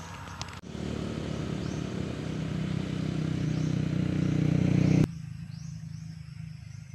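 A motorcycle engine heard while riding, a steady mid-pitched drone that builds gradually in loudness for several seconds before cutting off abruptly, leaving quieter background noise.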